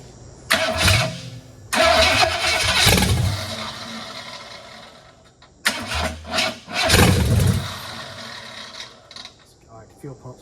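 A freshly built AMC 401 V8 in a 4x4 van cranks in two separate bursts, the starter churning and the engine catching with rough, uneven firing pulses. Loud and close, with a short pause between the attempts.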